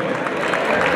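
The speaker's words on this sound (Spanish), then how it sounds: "Señoras y señores, véngale fuerte el aplauso al jinete que ha hecho ganador" A carnival rodeo crowd in Autlán applauds the winning rider at the centenary tournament, thick continuous clapping with a crowd roar, loud and close throughout.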